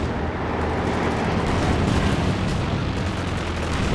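A tank battle in Company of Heroes 2 rumbles with heavy booming cannon fire and explosions, including a Panzer IV firing and hitting, as a dense loud wash with a voice faintly mixed in.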